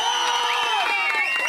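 A political rally crowd in Guntur cheers loudly and steadily, with whoops and shouts rising above a dense wash of voices and some clapping throughout.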